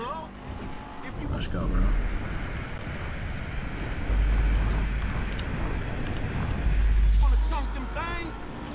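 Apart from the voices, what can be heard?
car racing engine in video game Grand Theft Auto 5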